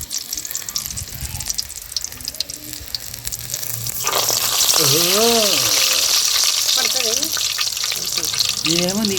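Coriander bajji fritters go into hot oil and set off a loud, bubbling sizzle that jumps up midway and keeps roaring, while someone talks over the frying.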